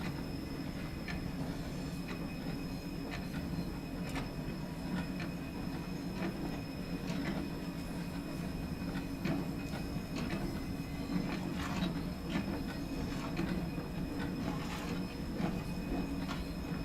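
A Stainer 8F steam locomotive and its train roll slowly in Train Sim World 2, heading to Crewe, with a steady rumble, faint repeated rail clicks and a light squeal, quiet and unbroken throughout.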